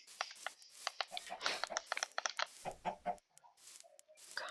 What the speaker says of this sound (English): Oh, a chicken!